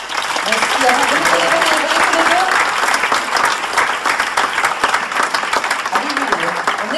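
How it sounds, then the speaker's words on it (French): An audience applauds at the Fribourg International Film Festival, loud, sustained clapping close by that continues throughout with a slight easing partway, and a voice speaks briefly beneath it. "Vous pouvez toujours continuer à les applaudir."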